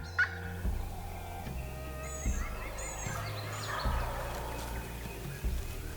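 Wild turkey gobblers gobble repeatedly at a distance during a hunt, rapid rattling calls rising over quiet outdoor ambience, with faint higher bird calls mixed in.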